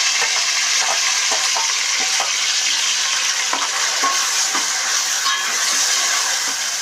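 Ground onions sizzle and fry in oil for an Andhra-style fish curry, a dense steady hiss close to the pan with occasional stirring scrapes and no talk.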